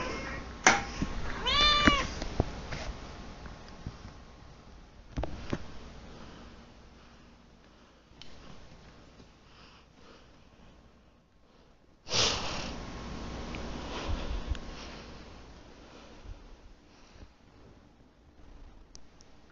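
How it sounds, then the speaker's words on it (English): A cat meows several times up close early on, with soft sniffing and snuffling around it and bursts of handling noise, then a quieter stretch. "There's a kitty cat who's taking off."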